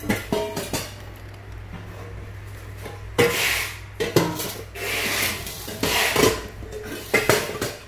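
A Japanese stainless steel pot, 24 cm across and 15 cm tall, is handled up close with sharp metallic clanks, scrapes and clatters arriving in irregular bursts.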